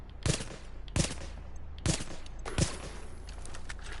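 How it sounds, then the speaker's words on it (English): LMG machine gun firing at long range in the shooter game The Division, four separate short bursts of gunfire spaced about a second apart, sharp and moderately loud with echoing tails. "He's doing really long distance shots with that LMG."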